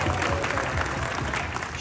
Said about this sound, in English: Round of applause for Canada.